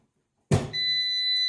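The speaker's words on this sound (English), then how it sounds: "Hear the beep, it's on." A bread machine gives a single clear electronic beep as it is plugged in, preceded by a soft click and followed by a sustained steady tone, close and alone in a quiet kitchen.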